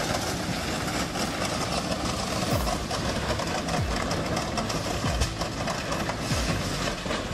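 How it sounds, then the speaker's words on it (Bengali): Train braking to a stop, with a heavy continuous rumble and grinding roar and low tones sweeping downward, loud and sustained with no voices. "মনে হচ্ছে ট্রেনটার পুরোপুরি থামার জন্য আরও কিছুটা সময় লাগবে।"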